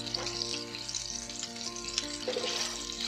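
Beef steak frying in a pan of butter with a little oil, giving a steady, dense sizzle that holds evenly the whole time alongside a low background hum.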